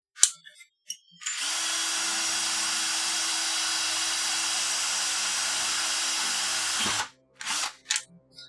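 A power drill bores into the plastic casing of a cat-shaped toy keyboard with a steady, loud whine lasting several seconds, framed by a few short clicks and handling knocks before and after.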